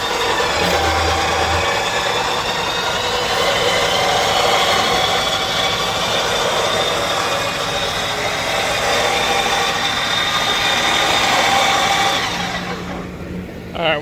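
An X Bull electric winch on an Iron Cross bumper spools synthetic rope with a loud, continuous motor whine and grind that holds steady, then winds down and stops near the end.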